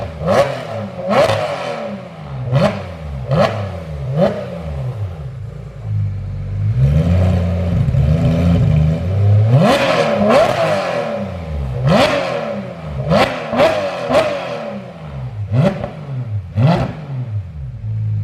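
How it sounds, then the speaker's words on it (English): A Porsche 991.2 GT3 RS engine revs repeatedly through its stock exhaust, rev-limited, with sharp rising blips falling back to idle in a quick rhythm, loud and close, and a longer sustained rev midway. "Can you get a quick exhaust clip of me revving?"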